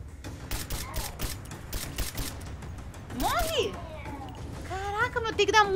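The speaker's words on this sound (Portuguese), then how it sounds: "Tem que dar muito tiro nesse cara pra ele morrer." Rapid bursts of gunfire from the video game Rise of the Tomb Raider crackle in short volleys, mixed with game sounds and a player's excited talking.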